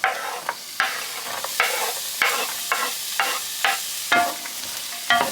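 Carrots stirred in a cooking pot for a vegan creamy potato soup: a spoon scrapes in regular strokes, about ten in a row, over a soft steady sizzle, close up.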